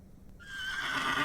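A horse whinnies in The Excavation of Hob's Barrow video game, a rising, bright neigh that swells louder over about a second, heard alone with no talking.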